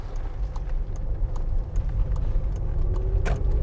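Car engine pulling through the end of a turn at an exam route on Peremohy Street, revving up steadily and then shifting into second gear, heard from inside the cabin with steady road rumble and no talk.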